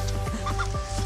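Several chickens cluck close by in short, overlapping calls over a steady low hum.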